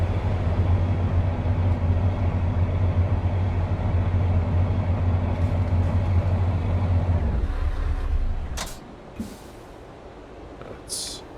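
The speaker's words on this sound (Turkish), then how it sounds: "dışarıdan bir arabanın stop sesini dinleteceğim size" A DAF XF Euro 6 truck engine heard from outside idles with a steady low hum, then shuts off, leaving quiet broken by a few sharp clicks.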